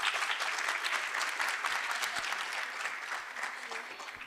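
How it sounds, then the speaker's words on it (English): Sustained applause from a crowd at a college event as performers are welcomed on stage, a steady, even wash of many hands clapping at moderate loudness, with no one talking over it. "Can we give them a big round of applause?"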